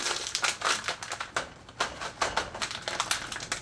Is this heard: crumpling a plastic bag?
yes